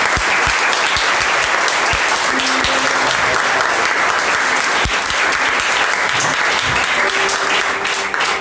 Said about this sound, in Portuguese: Vamos receber o pastor Davi com uma linda salva de palmas em nome de Jesus.